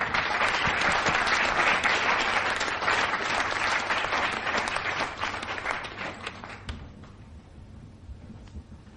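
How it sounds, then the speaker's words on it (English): Hall audience applauding award nominees at a ceremony, sustained dense clapping that stays loud for several seconds and then thins and fades toward the end. "So a continuous round of applause for all our nominees"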